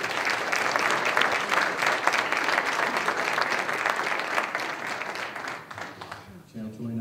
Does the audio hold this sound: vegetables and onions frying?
no